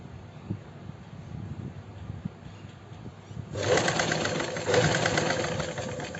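A sewing machine stitching lace onto a princess-cut kurti, a quiet room hum at first and then a loud steady mechanical whirr of stitching that starts about halfway through.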